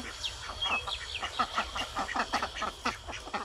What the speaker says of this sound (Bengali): বড় জেঠুদের বৌদিরা সব হাঁস পুষেছে, দেশি হাঁস, চীনা হাঁস আছে, রাজহাঁস আছে।